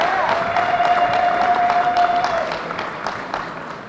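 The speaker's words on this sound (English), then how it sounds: "Y'all can clap for that." Convention audience applauding a nomination for a New York State Senator, a broad wash of clapping that swells then gradually fades, with cheering voices and a brief whistle-like tone early on.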